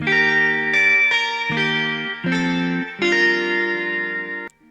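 Distorted electric guitar playing a slow melody of sustained notes and chords, with a wide, reverberant effect-laden tone and no voices.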